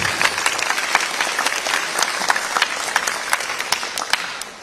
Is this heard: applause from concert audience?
yes